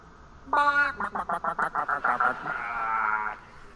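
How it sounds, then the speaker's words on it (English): A cartoonish chicken sound effect from an iPhone Animoji: a squawk followed by a quick run of about nine rhythmic clucks and a drawn-out bawk, bright and close with no talking. "We've got a chicken."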